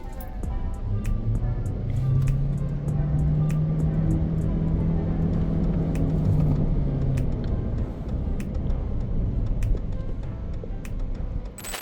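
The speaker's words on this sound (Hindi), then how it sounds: "अभी इस गाड़ी का stand still say 0 to 100 check करते हैं" A BYD Shark 6 pickup accelerates from standstill toward 100 km/h, a steady low engine drone rising in pitch over several seconds and then easing off, heard from inside the cabin with scattered clicks.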